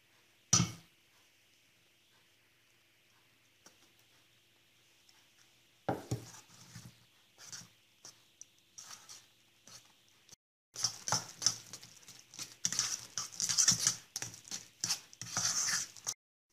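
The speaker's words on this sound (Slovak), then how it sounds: "banány sme olúpali a teraz ich rozpučíme" Peeled bananas mashed in a bowl for healthy banana pancakes, heard as bursts of soft, wet squelching and tapping strokes, sparse at first and then dense and steady near the end, with no talk.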